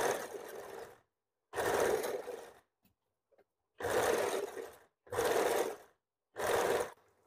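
Sewing machine stitching blouse fabric at the tiking seam, running in five steady bursts of roughly a second each, close and fairly loud, separated by short silent pauses.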